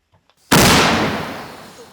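A single loud gunshot, sharp and close, followed by a long fading echo rolling off over about a second and a half.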